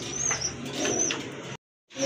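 Pigeons coo softly, a few low, rounded calls heard close but faint, broken off briefly before resuming.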